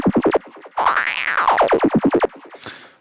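Sylenth1 one-shot synth effect preset called Drifting for psychedelic trance: a rapid train of plucky stabs, then a swelling tone that sweeps up and falls back under more stuttering repeats, ending in a brief airy hiss, with no voices.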